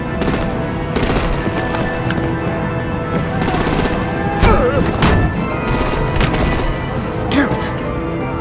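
Heavy machine-gun and artillery fire erupts in Batman The Telltale Series, loud bursts of rapid shots in several clusters with sharper booms mid-way, while voices speak beneath and between the volleys.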